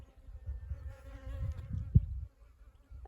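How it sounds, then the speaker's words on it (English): Bees buzzing outside on a rainy day: a faint low droning hum, steady for about two seconds with one brief louder knock, then fading to near quiet. "I guess you can hear all of the bees"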